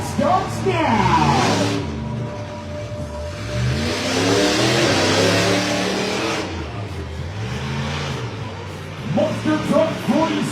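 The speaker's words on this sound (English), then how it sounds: "Monster Truck Freestyle is underway with California Kid." The California Kid monster truck's engine revs and roars through a freestyle run at a live event, surging and falling in long pulls, while an announcer's voice carries over the engine in places.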